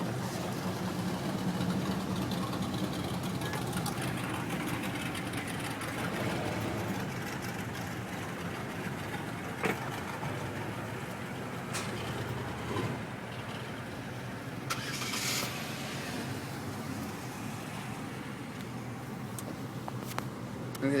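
Car engines idle with a low steady rumble at a street gathering where a Camaro is among the cars, the noise continuous throughout with a few brief louder bursts of revving, fairly close.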